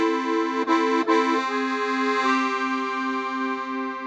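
Accordion in F playing sustained chords with the bellows drawn out, a bright, reedy tone with a few quick chord changes early on and then a held chord ringing steadily and loud, with no voices.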